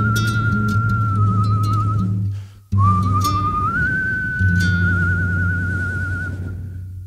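A melodic whistled tune into a microphone, steady and close, with a brief break partway through, over a low hum.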